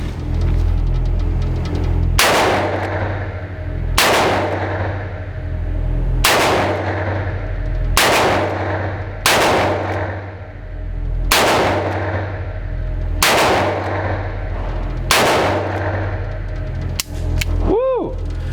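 Eight sharp, loud shots from a Smith & Wesson 327 TRR8 Performance Center .357 Magnum revolver fired at a range, spaced roughly every two seconds, each with a short ringing tail, followed by a metallic clink at the end.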